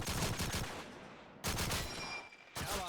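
Luger pistol fire in Call of Duty 2 on the Burgundy map, three loud sharp shots about a second apart, each trailing off into a short echoing tail.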